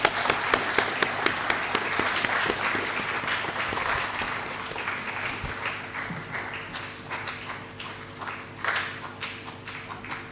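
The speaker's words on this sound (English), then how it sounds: "Another round of applause." An audience at an International Missing Children's Day event breaks into steady applause, many hands clapping close by, the clapping gradually thinning toward the end.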